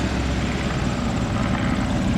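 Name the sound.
Fokker Dr. I triplane taxiing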